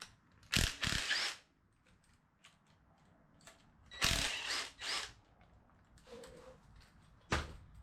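Bolts being worked loose and removed from a 2.2 Ecotec engine during a teardown: two bursts of rapid ratchet clicking, then a few light metallic clinks and one short final ratchet burst, close by, with no talking.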